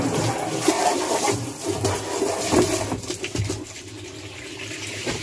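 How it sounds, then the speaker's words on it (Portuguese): Water pouring and splashing into a clogged washing machine tub, a close, uneven gushing stream that rises and falls before settling into a softer trickle. "Colocar água, pessoal,"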